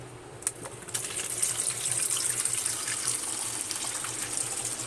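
Tap water running steadily into a sink or bowl to soak fish, a continuous close gushing stream with a few faint clinks at the start.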